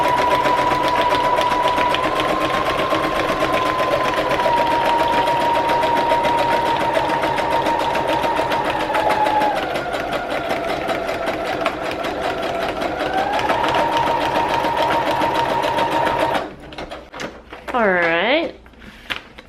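A sewing machine runs steadily, stitching a cross stitch through paper for a junk journal page, a loud continuous whirring hum with slight shifts in pace before it stops and a person speaks.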